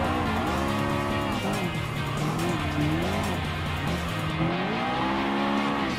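A green McLaren MP4-12C race car in Gran Turismo Sport howls at steady high revs, its engine pitch sweeping up and down through gear changes with tire squeal, loud and continuous.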